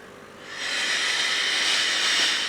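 A Tefal Express Essential SV6110 steam ironing station releases a steady, loud hiss of steam that begins after a short quieter moment and continues evenly.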